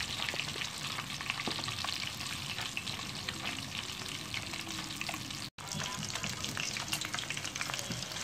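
Catfish frying in hot oil gives a steady, dense sizzle with scattered pops and crackles, continuous and close throughout with a brief dropout near the middle.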